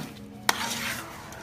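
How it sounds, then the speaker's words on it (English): Breadcrumb stuffing being stirred in a bowl, a soft scraping rustle with one sharp clink of the utensil against the dish early on, close and fairly quiet over faint kitchen background. "I'm just going to stir that up a bit."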